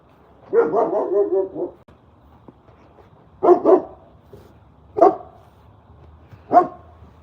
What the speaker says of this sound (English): Yeah, this is vicious. It's not my dog.